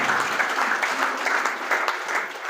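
An audience claps steadily at a Bhagwat Katha religious gathering, a dense, even applause that holds throughout without speech.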